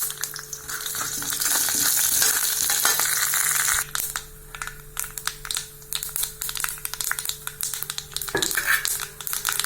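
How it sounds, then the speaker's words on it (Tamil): Mustard seeds and urad dal fry in coconut oil in a kadai. Sharp pops and crackles sound close over a sizzling bed, busiest and loudest in the first few seconds, then sparser. "இப்போ கடுகு உளுத்தம் பருப்பு போட்டுடலாங்க"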